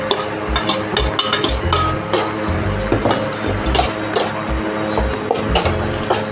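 A spoon stirring thick masala with fried onion and curry leaves in a pot for spicy Bengali egg curry, repeated dull scraping knocks and clinks against the metal in an uneven rhythm, fairly close.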